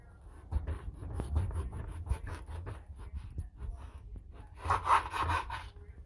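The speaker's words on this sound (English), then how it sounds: "And I'm going to slice the other end." A knife saws through a loaf of cassava rosemary bread, trimming the end in a series of close rasping strokes that swell louder near the finish.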